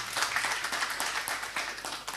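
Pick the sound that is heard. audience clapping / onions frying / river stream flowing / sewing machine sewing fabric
audience clapping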